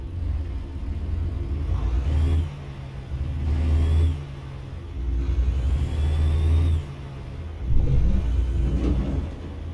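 Truck engine in American Truck Simulator pulling away on automatic, a loud low rumbling drone that rises in surges, eases between shifts and climbs again, close and steady with no talking.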